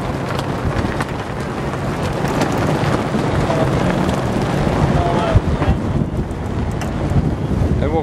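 Strong wind buffets the microphone on the deck of the sailing ship HMCS Oriole in port at Port Stanley, Ontario, a loud, steady roar that continues throughout.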